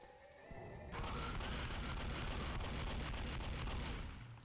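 Shotgun blast in the video game Left 4 Dead aimed at a crying witch: a heavy boom that swells into a sustained roaring, crackling burst lasting several seconds before tapering off.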